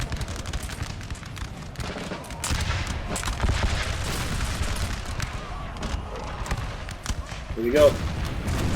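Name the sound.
musket and artillery fire, scattershot, in video game Napoleon Total War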